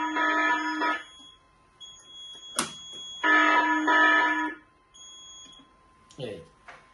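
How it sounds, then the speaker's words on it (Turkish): Two long blaring fire alarm bursts from a fire suppression system demonstration stand, loud and nearby, separated by a short gap, with a brief click and a voice in between. "Dedektörlerden alarm verdiriyorum."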